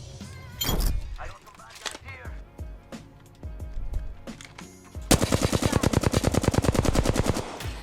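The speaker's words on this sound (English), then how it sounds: "I'm getting shot at." Gunfire in the video game Apex Legends, scattered shots and impacts followed by a sustained rapid burst of automatic fire, loud and close, with a player speaking over the early part.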